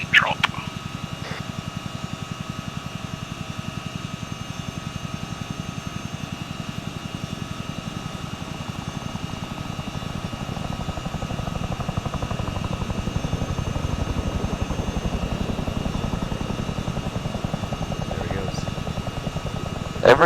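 Steady helicopter rotor thrum in the video game Arma 3, with a low rhythmic chop, growing slightly louder midway, mixed with engine hum and faint game-style background tones.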